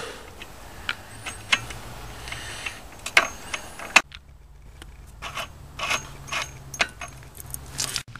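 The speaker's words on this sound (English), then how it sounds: "put on the new washer and thread on the new nut" A new washer and nut go onto a dirtbike sprocket, with small metallic clicks and ticks of the nut threading on, scattered and close but quiet, with no voices.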